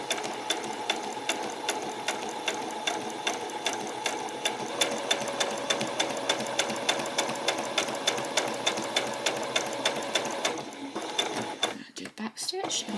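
A sewing machine runs back stitches across a skirt in a fast, even mechanical rattle that holds steady for several seconds, then slows and halts into a few sharp clicks near the end.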